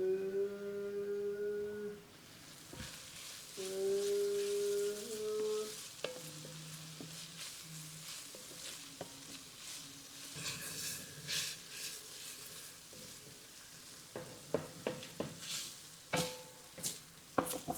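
Onions frying in a pan for a bacon cheeseburger casserole, a soft sizzle under intermittent stirring and utensil scrapes and clicks that grow busier toward the end, with brief tonal sounds early on.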